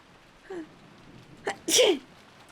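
A person sneezes once: a faint intake of breath, then a sharp, close, explosive burst that fades quickly into quiet.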